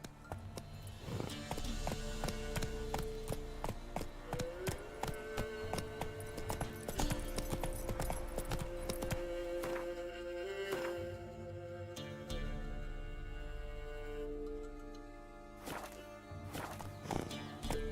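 Horse galloping in The Witcher 3: Wild Hunt, rapid rhythmic hoofbeats running continuously and fairly close alongside game music and ambient tones, no talking.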